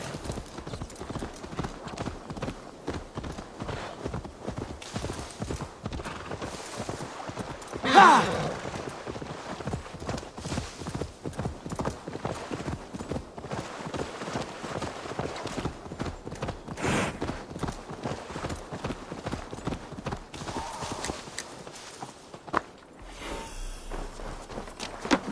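Horse hooves clip-clop at a steady walking pace in Assassin's Creed Valhalla, a close, even rhythm of soft thuds that runs throughout, with a short grunt and a brief voice briefly rising over it.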